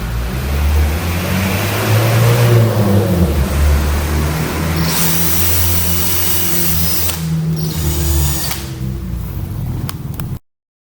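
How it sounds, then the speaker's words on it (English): A power drill whirs steadily for about ten seconds, its motor pitch shifting now and then as the bit bites, loud and close. "Drill the hole where the screw will be placed."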